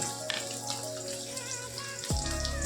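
Chopped onion and chili drop into hot white oil in a wok, a dense steady sizzle that turns louder and fuller at once as the pieces hit the oil, close with no talking.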